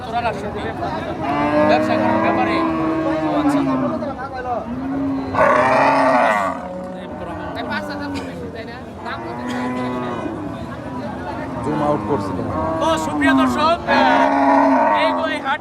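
Cattle at a livestock market lowing repeatedly: long, loud, deep moos from nearby animals rise and fall over the whole stretch, with people talking in the background.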